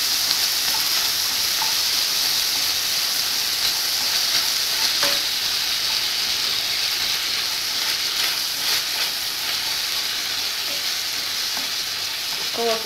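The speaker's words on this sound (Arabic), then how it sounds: "دابا نشربو البصله ديالنا حتى تطيح" Onions and sugar fry in a pan with a loud, continuous sizzle, and now and then a stirring utensil scrapes or clinks against it. Nobody speaks.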